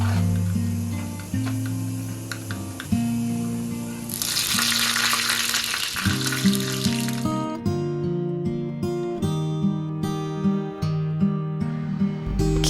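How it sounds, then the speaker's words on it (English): Indian tadka tempering hitting hot oil sprinkled with salt, a sudden loud burst of sizzling hiss that flares for a few seconds and then fades, with melodic background music playing throughout. "The salt helps to control the splatter and keeps the tempering from flying all over the place"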